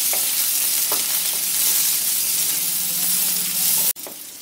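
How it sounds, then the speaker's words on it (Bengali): Onion and garlic fry until brown in hot oil, a loud, dense, continuous sizzle up close with occasional stirring scrapes, ending in a sudden sharp knock before the frying noise drops lower. "পেঁয়াজটা আর রসুনটাকে ভেজে নেব।"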